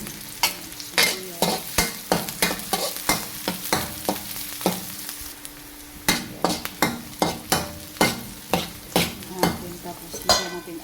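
Onion sautés in hot oil for pinakbet with a constant sizzle under a regular run of sharp spatula scrapes and knocks against the pan, about one per half second, close by with no speech.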